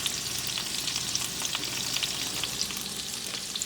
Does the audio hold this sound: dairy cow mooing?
no